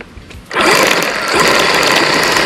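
A HART 40V cordless battery weed eater spins up abruptly from near quiet to a loud, steady high-pitched whine at full throttle, holding a constant buzzing drone close by.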